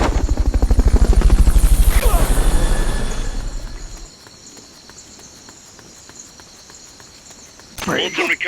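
A Fulton recovery helicopter in Metal Gear Solid: Peace Walker thumps loudly and close, then fades away over a few seconds, leaving a quiet hum before a brief clatter at the end.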